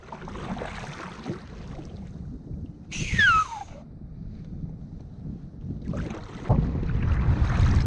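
Wind picks up over Watts Bar Lake on the Tennessee River during a kayak trip, buffeting the microphone in steady gusts with light water lapping against the boat and a brief high whistling sweep midway.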